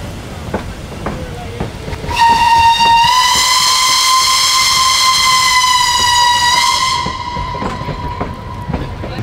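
Mocănița, an old narrow-gauge steam train in Maramureș, Romania, gives one long, loud, steady whistle blast of about five seconds that rises clearly above the outdoor background noise and then cuts off.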